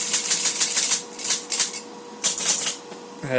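Typing on a teletype keyboard switched to offline local mode, a quick run of loud clacking keystrokes in bursts with brief pauses, ending in a sharp mechanical clunk.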